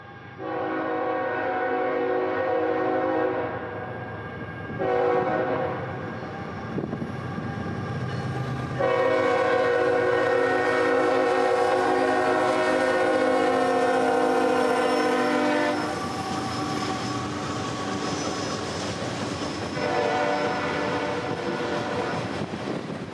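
A CSX freight train headed by two GE locomotives sounds its horn in several long, loud blasts, with short pauses between them, over steady rumbling and rolling wheels close by.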